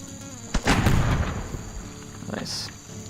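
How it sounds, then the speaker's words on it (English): Cannon fire in the video game Expeditions: Conquistador: a sharp booming blast followed by a rumbling tail, then a second, softer report a moment later. "let's fire some cannon shots."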